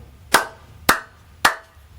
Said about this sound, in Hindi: ताली बजाना तो पहले ही सीखना पड़ता है।